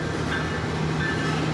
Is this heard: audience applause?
no